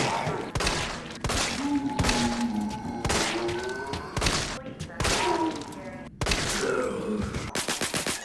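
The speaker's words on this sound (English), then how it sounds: "so that took 9 shots to defeat a zombie with the Samurai Edge" Handgun shots from the Samurai Edge in Resident Evil 3 Remake, fired at a zombie: about nine sharp, evenly spaced cracks, each with a thudding impact, over a low droning game ambience.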